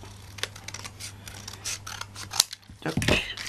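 Scissors trimming an uneven edge of card for a bellows-style greeting card: close, dry snipping and scratchy blade strokes, ending in a louder cluster of cuts.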